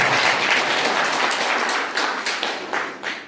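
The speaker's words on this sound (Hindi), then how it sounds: "जोरदार तालियां बजाएं।" A crowd at a political gathering breaks into loud, dense applause that stays strong before tapering off, with scattered individual claps poking through toward the end and no talk over it.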